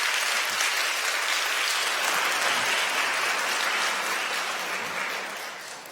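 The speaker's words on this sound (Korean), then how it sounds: "여러분들 환영의 박수 부탁드립니다." A congregation at a Korean Sunday worship service applauds in welcome for a visiting family, giving loud, dense clapping from a full room that stays even for several seconds before tapering off at the end.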